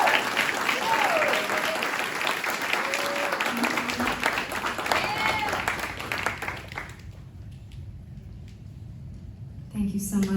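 An audience claps after a live song performance, loud dense applause with a few cheers and faint voices, fading out at about seven seconds before a brief spoken bit near the end.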